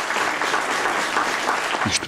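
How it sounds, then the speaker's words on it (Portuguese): Sustained applause from a crowd at an elderly people's Christmas celebration in Bragança, dense and fairly loud throughout. A brief voice cuts in near the end. "Uma salva de palmas para as instituições de Bragança."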